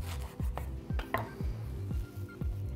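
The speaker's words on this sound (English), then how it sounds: "So then just chop down" A kitchen knife chops down through a fresh pineapple on a cutting board, a series of about six dull, thudding cuts at an uneven rhythm, close by and fairly quiet, with no talking.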